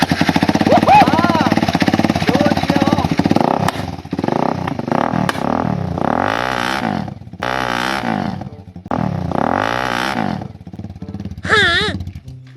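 Loud racing-game vehicle engine revving hard and then launching, the pitch rising and falling in repeated surges with rough mechanical clatter, close and dominant throughout.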